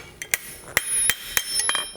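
Iron being hammered on an anvil while forging a toaster, a run of sharp ringing metallic strikes at an uneven pace, loud and close, with brief gaps between blows.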